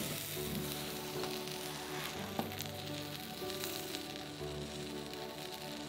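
Apple bread dough cooking over medium heat in a covered frying pan gives a steady, soft sizzle with a faint hiss that runs unbroken from start to finish, with no voices.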